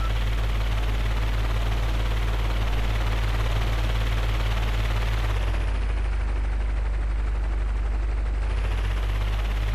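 Continuous rapid gunfire from a video game, loud and sustained like machine-gun bursts over a steady low rumble, briefly thinning midway before picking back up, with no talking.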